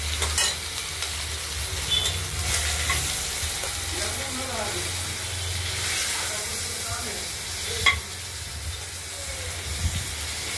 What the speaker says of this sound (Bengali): পরিমাণ মতো জিরেও দিয়ে দিলাম।